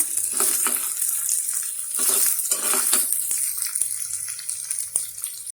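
Coconut pieces fry in ghee for Ada Pradhaman, a steady close sizzle with intermittent stirring scrapes and a few light clinks of a utensil against the pan, no voices.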